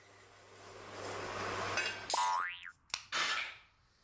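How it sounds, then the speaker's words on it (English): A freshly cut metal part drops from a bandsaw onto a coil spring placed beneath it, giving a springy boing with a wavering ring and a couple of sharp metallic clinks after a hum of machinery, no speech. "Place a spring under the bandsaw to soften the fall of parts when they've finished cutting"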